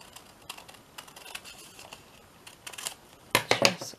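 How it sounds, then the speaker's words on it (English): Scissors snip through paper while a simple journal is made, a few faint crisp cuts early on, then a louder burst of several quick snips near the end, with no talking. "So I'm just going to just cut that off."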